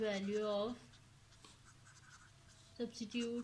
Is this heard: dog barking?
no